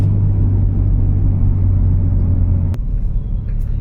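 A 500hp BMW 135i rumbles steadily while driving, a loud, low engine drone close by that dips slightly near the end.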